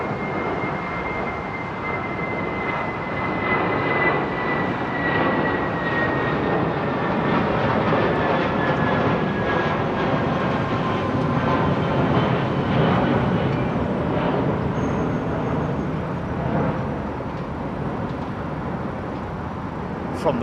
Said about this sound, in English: third ITA jet inbound.